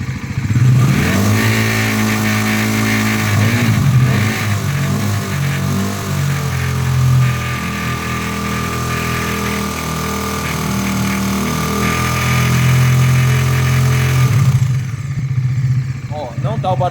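A Bajaj Dominar NS400Z motorcycle engine with an abnormal mechanical noise revs up and holds high, a loud close engine drone swelling and falling with a wavering whine, then dropping back near the end.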